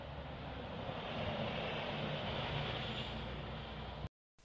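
Buses driving through West Hobart, a steady broad engine and road rumble with a brief hiss that could be an air brake, continuous and fairly close, cutting out abruptly near the end.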